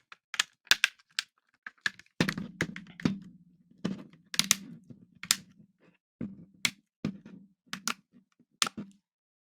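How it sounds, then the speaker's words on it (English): Plastic case of a Kindle Keyboard e-reader being pressed and snapped shut, a series of sharp close clicks and snaps in irregular bursts with short gaps between them. "That's just the sound plastic makes when everything's friction sealed"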